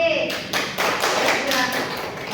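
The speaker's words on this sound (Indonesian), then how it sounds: "Beri aplaus dulu untuk kelompok B" A classroom of students applauds a group of presenters, a dense, steady burst of clapping that starts abruptly and holds for about two seconds.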